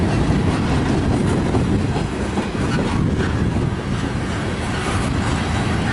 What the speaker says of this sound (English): Not yet, it's a long train, wow.